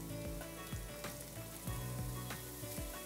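Onions frying in a pan with lemon zest soon to be added, for a Lebanese spicy fish dish; a steady sizzle runs throughout with a few sharp knocks and stirring clatters near the microphone.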